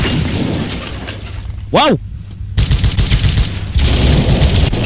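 A machine gun rattles in a mobile shooter game in dense, loud bursts that stop for a moment and then resume, with a voice exclaiming over the firing.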